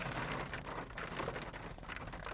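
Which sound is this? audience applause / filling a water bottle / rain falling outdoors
rain falling outdoors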